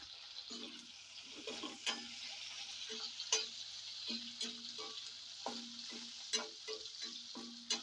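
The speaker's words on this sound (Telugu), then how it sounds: "ఒక నాలుగు పచ్చిమిర్చి అయితే ఆయిల్లో వేపుకుందామండి ఒక టమాటా టమాటా ముక్కలు కూడా పచ్చిమిర్చితో పాటు వేసేసుకుందాం" Green chillies and tomato pieces fry in hot oil for a smoky roasted brinjal chutney, giving a steady close sizzle broken by frequent sharp scrapes and taps of a spatula against the pan, with no talking.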